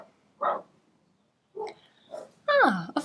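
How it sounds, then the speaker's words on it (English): A dog barking outdoors on a sunny day, a few separate sharp barks with pauses between, ending in a louder yelping bark, fairly close. "Ah, of course, the usual bark interruption."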